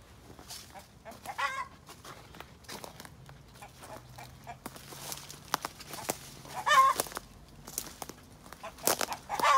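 Free-range chickens cluck in a backyard forest garden, with scattered near and farther clucks and bursts of scratching or rustling in quiet outdoor surroundings.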